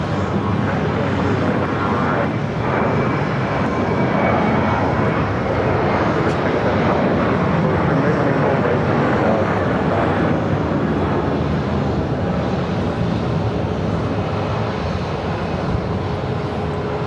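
An airliner taking off from runway 7 at Phoenix Sky Harbor airport, a loud, sustained broadband jet engine roar that holds steady throughout from a nearby vantage point.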